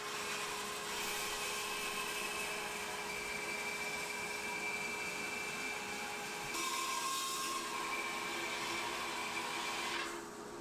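A bandsaw runs continuously with a steady whine and hum while cutting a thick 16/4 wood board. A brief shift in tone comes partway through, and the sound stops near the end.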